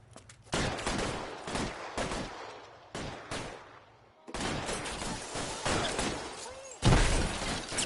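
Repeated gunfire aimed at police during a video game street fight, loud bursts of shots in dense clusters with short gaps, then a final heavy blast near the end, with no talking over it.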